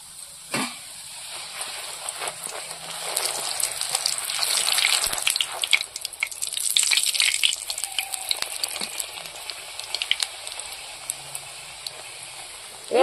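Wheat-flour fuchka puris deep-frying in hot oil, a bubbling, hissing sizzle that swells and crackles with sharp pops, close and fairly loud, easing off toward the end.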